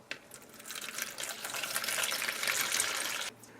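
Warm water pours steadily into a bowl for bread roll dough with yeast, a continuous close splashing rush for about three seconds before stopping abruptly.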